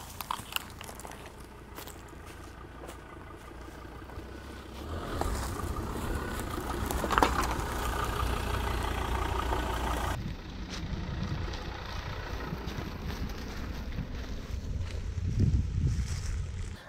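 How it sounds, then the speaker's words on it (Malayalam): A Ford Endeavour SUV drives off-road in sand mode, a low engine rumble with rattling and crunching from the terrain that builds midway and then steadies, with no talking. "ഇപ്പോൾ നമുക്ക് ഇത് ഒരു സാൻഡ് മോഡലിട്ട് നമുക്കൊന്ന് ഓടിച്ച് നോക്കാം."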